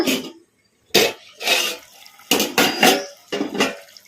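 A metal plate lid clatters and scrapes as it comes off a pan of frying chicken, several sharp metallic knocks and rattles in quick bursts, close and loud, separated by short pauses.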